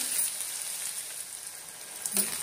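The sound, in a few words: onions frying in a pan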